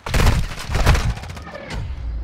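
Gunfire in Call of Duty: Modern Warfare II on PC, a loud, close burst of rapid shots with a heavy thump, then a second burst fading into lower rumbling debris.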